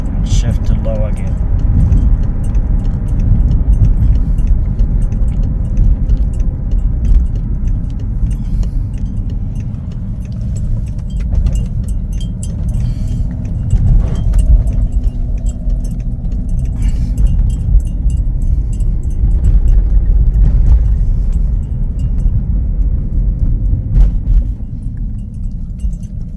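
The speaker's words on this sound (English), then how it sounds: "Very nice shifting now between the two gears." A BMW converted to electric drive rolls along with a steady low road rumble and drivetrain hum, automatically shifting between its two gears, with faint jingling rattles riding over the continuous noise.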